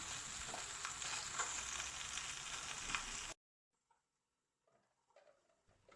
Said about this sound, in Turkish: Salatamızı yaparken balığımızın bir yüzü kızardı bile.